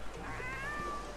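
A cat meows once in the PETZ Katzenfreunde video game, a short rising-and-falling mew that stands alone over a low background hum.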